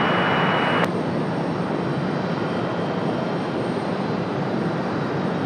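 An airliner's engines roar steadily at takeoff power on runway 23 left at Raleigh-Durham International, a loud, continuous broadband rumble that holds throughout.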